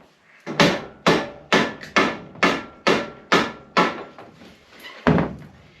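Hammer blows ring out in a shed during wreck repairs, about ten sharp, evenly spaced strikes close by, followed by a short pause and one final hit.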